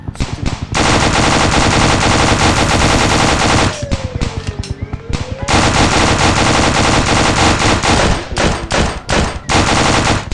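Automatic rifle fire in the Dude Theft Wars video game, loud rapid bursts pounding almost without pause, briefly broken by a short gap before more sustained volleys.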